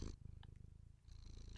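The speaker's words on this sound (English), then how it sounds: "Oh, she's going to purr." A black cat purrs close up, a steady low rumbling pulse with a faint soft vocal chirp in the middle and no talking over it.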